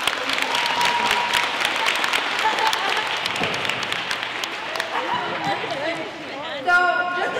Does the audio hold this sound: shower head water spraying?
no